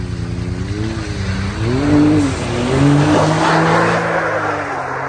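Several cars roar past at speed on a road trip route, engines whining and shifting pitch as they go by, with a steady rushing road noise throughout.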